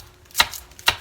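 A knife cuts through an onion in two crisp, close chops about half a second apart, the second following a short pause, with no talk.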